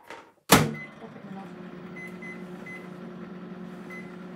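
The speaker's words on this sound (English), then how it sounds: "just give it a couple of seconds in the microwave" A microwave oven heating a mug cake starts with a sharp thump, then gives a steady low hum with a mechanical drone, and a couple of faint tones rise above it.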